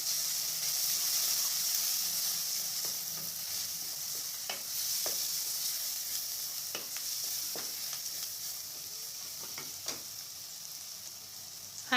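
Continuous hiss of mixed vegetables frying in a pan with chilli powder and turmeric, with a utensil clicking and scraping at irregular moments as it is stirred, close by.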